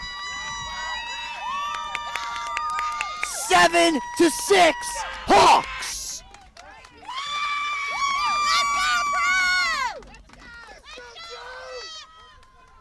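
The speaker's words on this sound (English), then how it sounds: "And you hear the cheers from everybody in the crowd" A crowd cheers at a high school lacrosse game between St. Joseph's Prep and Radnor. Loud bursts of cheering and shouting come under an excited commentator's voice.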